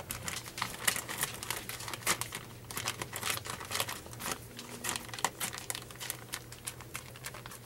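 A plastic bag crinkles and rustles as it is cut away from apple pie dough, with close, steady crackling and small tearing sounds, fairly quiet and with no talk.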